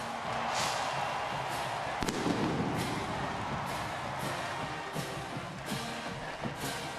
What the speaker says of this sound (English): The cannons went off.